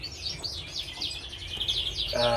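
Lesser redpolls calling indoors in a bird room, a steady run of thin, rapid chirps and twitters close by and fairly loud, with a brief harsher buzzy call near the end.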